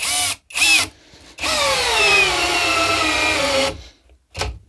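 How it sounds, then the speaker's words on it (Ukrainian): A compact cordless drill in second gear drives a 6x100 mm lag screw into wood without a pilot hole. Two short bursts come first, then one long, loud whine that holds for a couple of seconds before a final brief spurt, heard up close. "я відразу беру глухарік 6 на 100 мм, вмикаю другу передачу і пробую заганять без засверлювання"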